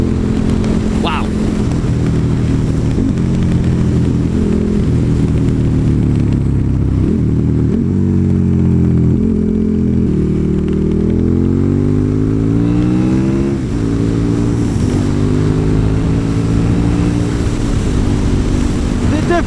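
A KTM Super Duke 1290 motorcycle pulls hard at full throttle, its loud engine note climbing repeatedly through the revs as it accelerates, with heavy wind rush over the whole ride and a rider's voice briefly underneath.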